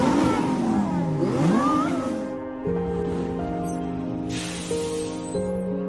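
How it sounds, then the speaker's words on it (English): Several Lamborghini sports cars rolling past in a parade, with a steady loud engine drone, shifting revs and pitch sweeps as each car passes close by. "here is a Lamborghini parade"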